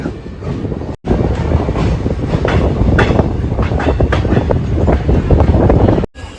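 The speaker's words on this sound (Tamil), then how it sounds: "ட்ரெயினில் ஏறியாச்சு ட்ரெயின் இப்போ கிளம்ப ஆரம்பிச்சிருச்சு" A passenger train departing on the Madurai to Palani route rumbles along steadily with rhythmic clattering of wheels on rails, loud and close, with brief gaps in the sound.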